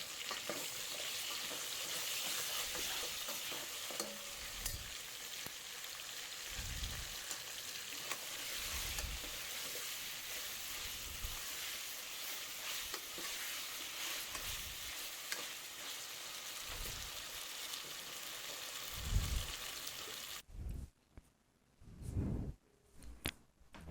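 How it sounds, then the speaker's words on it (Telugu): Ginger fries in an oiled pan for Telangana sambar with a steady, close sizzle and occasional stirring scrapes for about twenty seconds. The frying then drops away, leaving a few soft utensil knocks. "వన్ టేబుల్ స్పూన్ అల్లం వేసుకొని ఇది పచ్చివాసన పోయేంత వరకు వేయించుకోవాలి"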